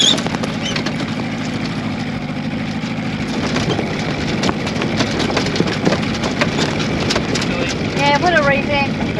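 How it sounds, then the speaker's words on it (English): Wind gusting around a small sailing boat under a working jib, a constant loud rushing roar buffeting close against the microphone, with a low rumble underneath that swells slightly in the later gusts. "It has been blowing about 10 knots or 12 knots, gusting up to 20"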